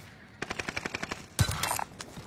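Gunfire from a shooter video game: a rapid burst of about ten evenly spaced automatic shots, then a louder, denser cluster of impacts and blasts, all fairly close with no talk.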